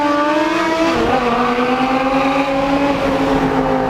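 Two BMW E63 M6 cars, with V10 engines, race side by side: a loud, continuous high-revving engine drone with rising and shifting pitches, close and sustained throughout.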